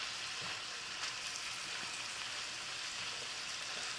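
Spicy pork cooks down in a pan, giving a soft, steady hiss of sizzling and crackling fat that runs evenly throughout at a fairly quiet level.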